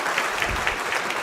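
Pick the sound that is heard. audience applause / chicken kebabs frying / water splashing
audience applause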